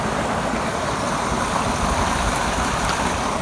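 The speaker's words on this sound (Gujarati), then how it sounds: "પાણી જાય છે." Water running through a channel on a farm field, a steady broadband rush heard close and continuous with no breaks or voices.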